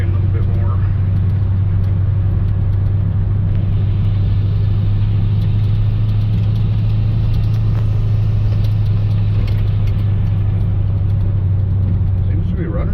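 A 1956 Ford F-100 pickup with a newly installed supercharger being driven gently, giving a steady, loud low engine drone and road rumble inside the cab throughout, with people talking at times.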